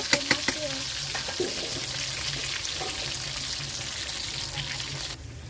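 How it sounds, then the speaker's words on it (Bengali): Potatoes for a meat curry fry in a pan with a continuous close sizzle, opening with a few sharp utensil clinks before settling into an even hiss. "মাংসের আলু ভাজা হয়ে গেছে"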